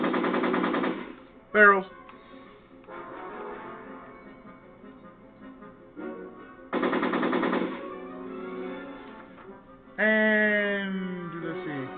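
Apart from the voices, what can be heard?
gunfire in Back to the Future video game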